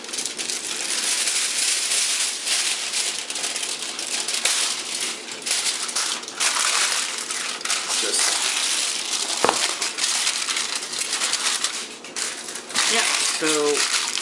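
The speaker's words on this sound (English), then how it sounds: "Wrap it up in tin foil," Tin foil crinkling and crumpling as it is wrapped around a stuffed turkey meatloaf, close and continuous rustling with sharp crackles.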